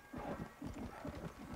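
A horse gallops in the video game Red Dead Redemption: Undead Nightmare, its hooves drumming in a fast, steady rhythm of soft, muffled beats at moderate volume.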